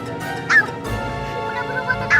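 Chicken clucking in the Indonesian comedy series Tuyul dan Mbak Yul, a few short, sharp clucks over a steady tonal background.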